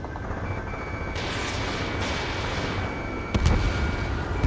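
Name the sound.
anti-aircraft gunfire in video game Ace Combat 7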